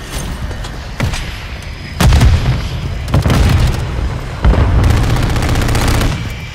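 Call of Duty multiplayer firefight with a Honey Badger rifle in play, with loud booming blasts and bursts of gunfire over a rumbling background, several heavy hits spread across the clip and no speech.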